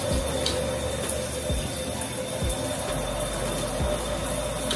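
Shower water runs steadily and close by as a continuous broadband spray, with a few faint knocks underneath and no talking.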